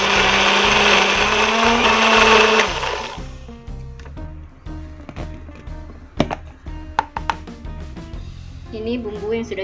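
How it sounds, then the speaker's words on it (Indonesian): A kitchen blender grinds spices with a little added water for an Acehnese fish dish, a loud steady whir for about three seconds before cutting off, followed by quieter clatter and knocks of kitchen activity. "Kita tambahkan sedikit air untuk memblender."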